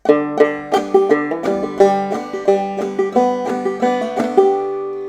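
A solo clawhammer banjo plays a bright, plucked rhythmic melody of Worried Man Blues with a steady driving strum pattern, clear and close with no voice.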